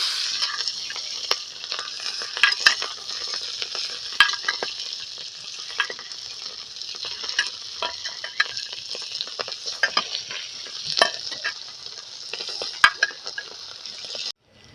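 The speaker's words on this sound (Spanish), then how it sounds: "Una vez que tenemos el aceite listo y todo caliente, lo primero que tenemos que colocar es nuestros pimientos y nuestra cebolla" Bell peppers and onion fry in hot oil on a disco for tacos al pastor, a constant bright sizzle broken by frequent metallic clinks and scrapes of a utensil against the pan, close up and without talk.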